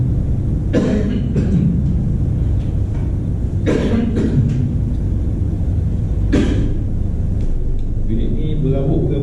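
Someone coughs three times, sharp and close, spaced a few seconds apart over a low rumbling background.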